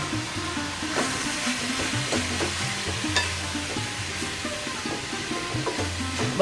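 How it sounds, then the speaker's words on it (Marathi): A thick jaggery mixture is stirred in a pan over medium heat, giving a continuous scraping and soft sizzling with rhythmic strokes of the spoon and no talking. "छान असं हलवून घ्यायचं हे मिश्रण मीडियम वरती आपल्याला बनवायचं आहे"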